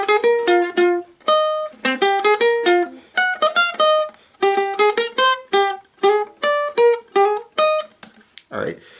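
A ukulele plays the next section of a theme, a long run of quick, crisp plucked notes in phrases separated by brief pauses, close and unaccompanied, with a brief rustle at the very end.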